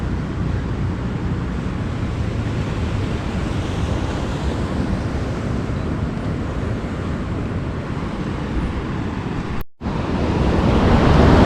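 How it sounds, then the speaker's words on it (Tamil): Heavy sea waves surge at Payyambalam Beach in Kerala on a rainy morning with a high tide, a loud, constant roar of surf mixed with wind buffeting the microphone, cut by a brief dropout near the end. "கடலோட சத்தத்தில் பேசுறது கேட்குதான்னு கூட தெரியல."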